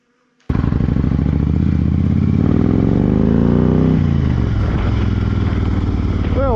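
A Harley-Davidson Road King fitted with mini ape hanger bars starts and rides off, its engine loud and close with a steady throbbing rumble that rises as it revs and then settles, with a voice briefly heard near the end.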